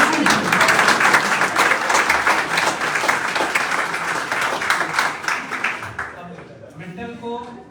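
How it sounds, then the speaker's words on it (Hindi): An audience at a motivational team gathering bursts into loud, sustained applause, dense clapping that fills the room for several seconds before thinning out as a voice starts to speak near the end. "इससे भी जोरदार ताली"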